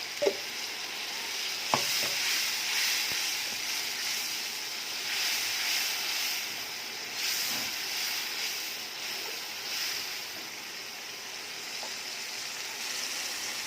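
Ground spice paste of ginger, garlic, dried and green chili, cumin and coriander frying in oil in a pan for a layer chicken and taro curry, a steady close sizzle with a few clicks and scrapes from stirring.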